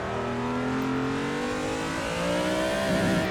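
A car engine revs hard and steady in second gear under heavy throttle while drifting in Assetto Corsa on PS4, a continuous loud whine that climbs slowly in pitch with no talk over it.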